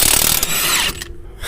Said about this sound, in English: This full size impact has never let me down, so hope it doesn't let me down now.